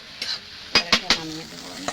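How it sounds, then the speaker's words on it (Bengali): A spoon stirs ridge gourd korma after roasted spice powder goes in, scraping against the pan in several quick strokes over a soft sizzle. "ভাজা গুঁড়ো দিয়ে নাড়াচাড়া করে নেব"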